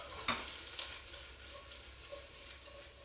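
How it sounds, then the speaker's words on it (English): Shallots and garlic sizzle steadily in a hot pan, a constant close frying hiss with a brief clatter of stirring near the start and no talking. "You can throw the shallots right in. Throw your garlic right in."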